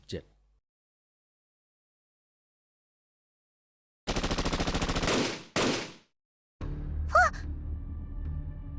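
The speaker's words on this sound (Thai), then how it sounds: "เมื่อกี้นี้มัน เสียงปืนค่ะรุนพี่" Rapid bursts of automatic gunfire crackle in two loud volleys after a quiet stretch in Fate/Grand Order, followed by noisy game effects and a brief tonal sound.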